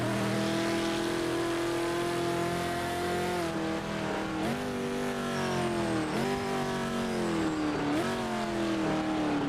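A GT3 race car engine in the video game Project Motor Racing, revving high and steady, then dipping briefly several times with lifts and shifts before climbing again, loud and close throughout.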